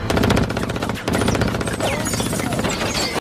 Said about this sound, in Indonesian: Datanglah seseorang dan menembak mereka